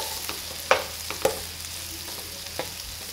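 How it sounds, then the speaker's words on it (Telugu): A spoon stirs potato fry in a pan after coriander is added, a few distinct scraping knocks over a soft, faint sizzle, with no talking. "కొత్తిమీర యాడ్ చేసుకొని అందులో ఒకసారి కలుపుకోండి."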